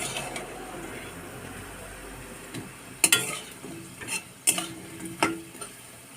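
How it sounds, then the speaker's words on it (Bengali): Bora fritters fry in a pan and are flipped from side to side, a low sizzle broken by several sharp clinks and scrapes of a utensil against the pan, close up. "এপাশ ওপাশ করে ভেজে নিয়ে নিচ্ছি। দেখো লাল লাল করে একটু ভেজে নিয়ে নিচ্ছি।"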